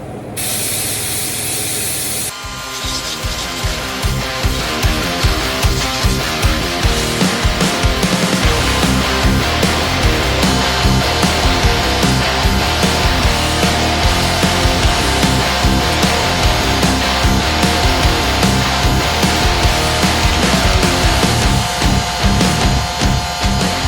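A spray gun lays the first coat of clear paint on a 1993 Ford F150 Lightning. A sharp burst of air comes first, then a long, loud, steady hiss close by, broken by rhythmic pulses as the trigger is pulled, with no talk.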